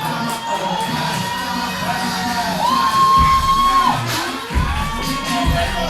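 A wrestling crowd at an indoor show cheers and yells for an arriving wrestler, a dense, steady roar of voices with whoops and one sustained shout rising above it.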